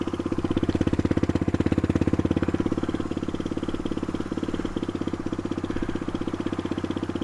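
A Suzuki DR250S motorcycle fitted with a loud Dominator R exhaust idles steadily close by, its rapid, even exhaust pulses thumping throughout with slight rises and dips in level.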